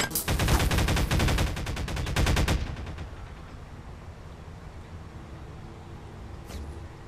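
Rapid automatic gunfire from the Garry's Mod video game, a dense burst of repeated loud shots for about two and a half seconds, then fading to a low rumble and a brief later crack.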